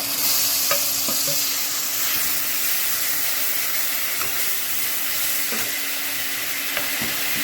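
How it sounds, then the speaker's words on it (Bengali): Onion frying in hot oil while being stirred, a continuous close sizzle broken by occasional scrapes and knocks of the spoon against the pan, with no one talking. "এই পেঁয়াজটা দিয়ে একটু কিছুক্ষণ নাড়াচাড়া করতে হবে"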